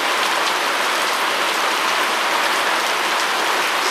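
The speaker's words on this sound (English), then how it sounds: "we getting rained on a little bit" Steady rain pattering hard on a shed roof, a dense, even hiss of drops that stays loud and close throughout, with no voices.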